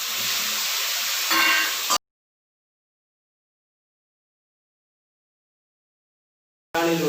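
Two small chopped tomatoes fry with onions in a pan for kothu porotta, giving a steady close sizzle that cuts off abruptly to silence and then briefly returns.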